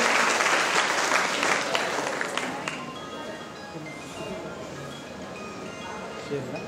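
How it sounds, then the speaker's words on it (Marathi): An audience breaks into applause, a dense crackle of many hands that is loudest at first and then settles into a steadier, slightly softer clapping that carries on throughout. "सर्वांनी टाळ्या जोरात वाजवण्याची कृपा करावी."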